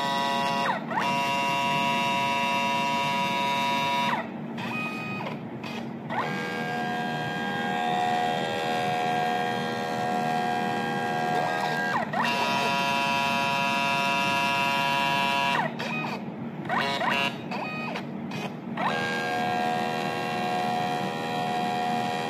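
An Agfaphoto Realpix Mini S instant printer runs steadily while printing a photo, giving a continuous mechanical whine with a low hum. Several short pauses break it up, with a few clicks between the printing passes.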